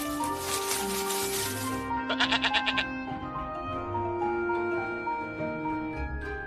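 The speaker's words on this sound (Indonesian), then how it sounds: "Ada domba jantan yang tanduknya tersangkut di belukar." A ram bleating in a narrated retelling of the story of Abraham, a wavering, trembling bleat over a steady, sustained musical background.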